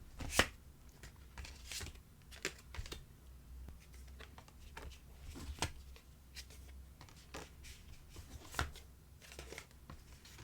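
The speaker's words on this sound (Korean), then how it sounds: "여러분 조언 카드 뽑아볼게요" Tarot cards are shuffled and drawn by hand, giving soft, quiet riffles and light taps and slaps in an irregular patter, close to the microphone, with no talk.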